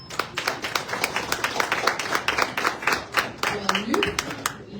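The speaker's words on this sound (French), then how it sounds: "Sur vos applaudissements, j'aimerais appeler Luc Thermonville." An audience at a welcome evening for Haitian newcomers in Canada claps in a dense, steady burst of applause that holds throughout, with a voice rising briefly near the end.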